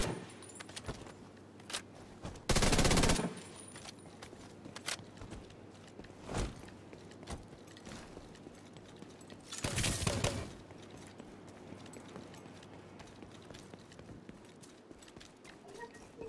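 Gunfire in the video game Tom Clancy's The Division 2 while shooting enemies, with two loud, dense bursts of rapid fire about seven seconds apart and scattered single cracks between them over a quiet background.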